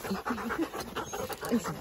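Sled dogs in the snow pant in a steady, rapid rhythm of quick breaths, close by and fairly quiet, with no talk over them.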